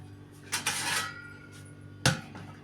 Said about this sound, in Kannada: ಕಲಿಸ್ಬಿಟ್ಟು ಇದನ್ನು ಒಂದು ಪ್ಲೇಟ್ ತೊಗೊಂಡು ಮುಚ್ಚಿ ಇಡೋಣ